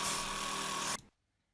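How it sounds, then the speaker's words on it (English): A jigsaw cuts wood for sleigh bed legs, a loud, steady, buzzing whine close up. It stops abruptly after about a second, leaving near silence. "I'm using my jigsaw to cut it down to within maybe about 1/4 of an inch or less of the line all the way around"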